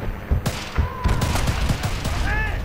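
Rapid bursts of gunfire in the video game Battlefield Bad Company 2, loud and close, with overlapping shots from several weapons.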